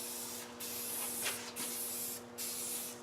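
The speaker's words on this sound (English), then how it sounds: "It's pretty accurate with its spray nozzles." Spray paint nozzle puts camo paint on a mini bike in short hissing bursts, three or four close spurts separated by brief gaps over a low steady hum.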